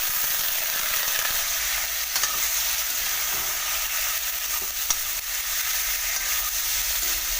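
Pork sizzling and frying in hot oil with onions and dried chillies for an Assamese pork curry, a loud continuous crackle and hiss with occasional sharper pops from stirring, and no talking.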